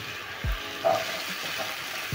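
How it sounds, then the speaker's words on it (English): Onions and garlic frying in a pan, a soft steady sizzle with a couple of brief clinks or stirring knocks, close and alone without talk. "So I'm going to cook the onions together with the garlic until the onion is soft and the garlic is fragrant."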